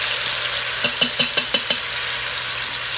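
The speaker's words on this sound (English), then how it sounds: "So I'm going to sear this for a couple of minutes on this side" Pork searing in an Instant Pot, a steady hiss of hot fat close up, with a short run of about six soft rhythmic taps partway through.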